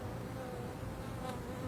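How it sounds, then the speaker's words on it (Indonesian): Bees buzzing around a hive as they build honeycomb cells, a steady dense insect hum filling the whole moment without any voices. "Lihat bagaimana lebah membuat sarangnya"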